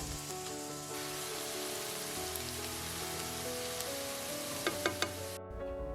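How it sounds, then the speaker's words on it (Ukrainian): Onion and grated carrot frying in a small amount of oil, a steady close sizzle and crackle that runs continuously with a few sharper pops near the end, no voices over it. "ставлю підсмажуватись невеликою кількістю олії. Натираю дві моркви і додаю до цибулі"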